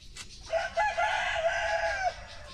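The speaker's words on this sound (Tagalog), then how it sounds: "Ito nga pala yung mga sisiw namin." A free-range Rhode Island Red rooster crows once, close and clear, its drawn-out call lasting about one and a half seconds over a quiet farmyard background.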